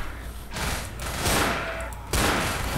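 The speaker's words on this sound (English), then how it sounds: "I shot him in the hand and he died." Bursts of gunfire in the zombie shooter Left 4 Dead, with loud sustained volleys of shots that start about half a second in, ease off briefly, then surge again near the end, with no talk over them.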